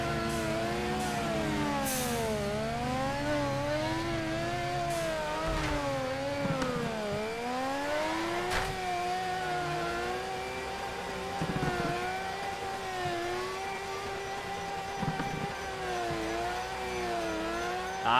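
A drift car's engine revs and wails in waves as it slides uphill in the Torque Drift racing game, pitch climbing and dropping repeatedly with each throttle shift, steady and fairly prominent throughout with no talking.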